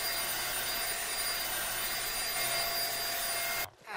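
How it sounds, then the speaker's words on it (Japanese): A Dyson DC63 vacuum cleaner with a two-tier radial cyclone runs with a steady, loud, broadband whoosh and a faint high whine, then switches off abruptly near the end. "ダイソン DC63 は2層のラジアルサイクロンを搭載した最小の掃除機。"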